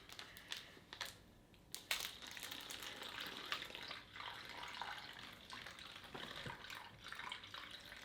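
Water poured slowly into a military MRE pouch, filling it to the line, a soft steady trickle and splash running throughout at close range with a few sharper crinkles of the pouch.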